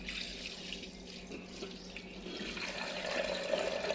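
Water being poured off settled, soaked pearl millet seeds in a home kitchen, a steady running and trickling stream near the sink that swells slightly toward the end.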